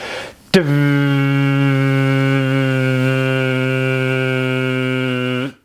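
A sustained, steady voiced hum held for about five seconds on one pitch, buzzing and resonant, starting abruptly after a brief breath and ending cleanly.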